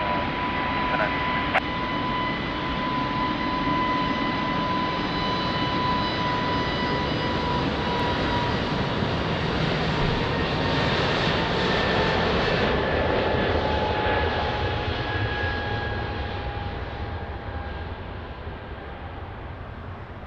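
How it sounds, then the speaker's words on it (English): Airliner on its landing run at Lisbon Airport, a steady broad engine roar held close and loud for the whole stretch with faint tonal whines, easing slightly toward the end. "Nice landing."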